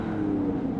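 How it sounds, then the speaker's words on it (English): The engine of a Porsche 718 GT4 track car with a flat six drones steady and close with a strong low tone, the hold after a missed gear shift, with no talking over it. "Missed a gear. Missed a shifting, sorry."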